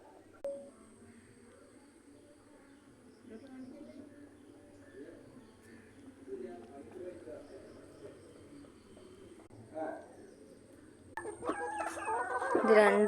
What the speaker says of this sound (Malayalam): ഇത് രണ്ടും മൊണ്ടി കോഴികളാണ്, പാവം.